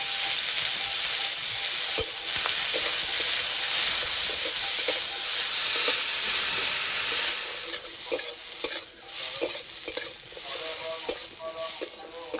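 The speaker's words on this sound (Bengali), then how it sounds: "এই তেলের মধ্যে দেব আলু," Potato pieces frying with turmeric and salt in hot oil in a kadai for a village-style Bengali jute-leaf dish, giving a steady, fairly loud sizzle broken by stirring scrapes and clacks, with no talking.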